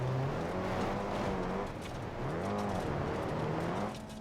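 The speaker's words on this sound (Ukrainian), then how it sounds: "Вольво то непогано їде, ти подивися, а?" A Volvo car engine runs steadily with rising and falling pitch as it drives off-road, a continuous motor drone with road noise throughout.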